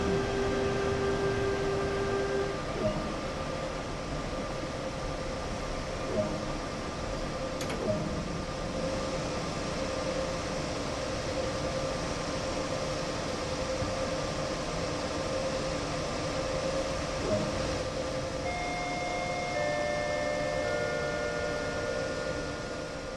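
A train in Train Sim World runs along the Main-Spessart Bahn with a continuous electrical hum and rumble, and a few faint clicks and tones sound over it.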